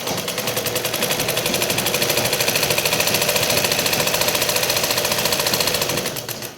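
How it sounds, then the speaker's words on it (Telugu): Sewing machine stitching a lace border onto a plain saree, a steady rapid mechanical rattle running continuously at close range, easing off at the very end, with no talk. "ఇప్పుడు అంచు కుడతామండి అంచు కుట్టేస్తే ఇంకా అయిపోయినట్టే"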